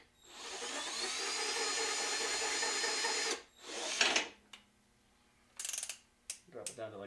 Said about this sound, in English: put them in with the drill the rest of the way